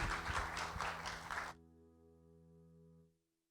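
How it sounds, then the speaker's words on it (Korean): Congregational applause welcoming the pastor at an online university-group Sunday worship service in a Korean church: a dense burst of clapping for about a second and a half, then cut off, leaving sustained organ or keyboard tones that fade out. "우리 큰 박수로 우리 목사님 모시겠습니다."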